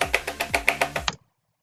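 Rapid jitterclicking on a computer mouse on a desk: eight or nine quick, evenly spaced sharp clicks with a thud on each, close and loud, ending abruptly in silence.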